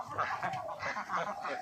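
A flock of domestic ducks quacks and honks in overlapping bursts close by, with people talking among the birds.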